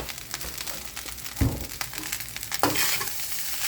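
Rice with chili powder and salt is stirred and fried in a pan, with a continuous sizzle broken by a few sharp scraping stirs near the middle, close and alone without talk.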